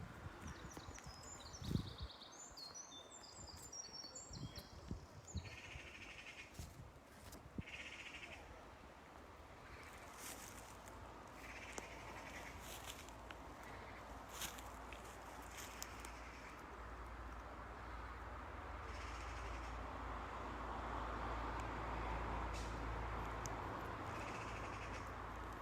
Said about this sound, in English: You can hear some of those species chattering away in the treetops. I think there's some magpies or jays arguing over there.